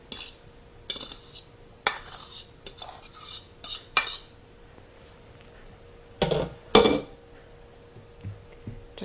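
A utensil scrapes and clinks against a casserole dish while a layer of hamburger meat is spread across the bottom for a homemade shepherd's pie, in irregular short bursts separated by quiet pauses.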